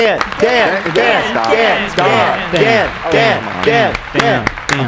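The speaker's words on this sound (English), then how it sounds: "Give yourself an applause." Studio audience and hosts on a talk show applauding a crew member, loud, close, uneven clapping mixed with overlapping talk and laughter throughout.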